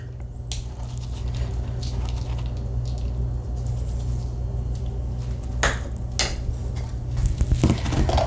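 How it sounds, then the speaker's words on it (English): A utensil clinks and scrapes against a bowl while marinara sauce and grated Parmesan are stirred together for air fryer stuffed peppers, with irregular taps and a busier run of clatter toward the end. "I'm just going to mix this until it's all incorporated"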